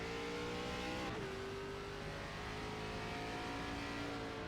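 A sim-racing stock car engine on a qualifying lap at Richmond, a steady droning whine that drops in pitch as the car lifts or shifts, then holds on, quiet and continuous with no talk.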